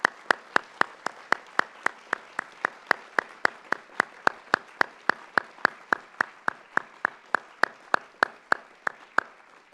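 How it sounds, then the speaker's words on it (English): Steady rhythmic clapping at a university forum, regular sharp claps repeating evenly for about ten seconds, sounding like one or a few people clapping in unison rather than a full crowd. "So I think we should be giving them a great round of applause."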